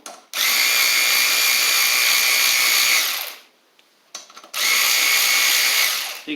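An Eastvolt 3/8-inch cordless ratchet wrench loosening a bolt gives off a loud, high-pitched motorized whir in two bursts of about three and two seconds, with a brief quiet pause between them.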